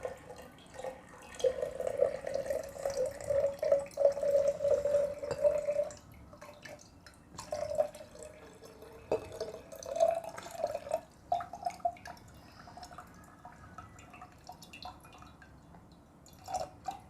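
Water is poured from one jug into another, a thin trickling and splashing stream that runs for several seconds, then comes in shorter intermittent pours with quiet gaps, close and fairly soft.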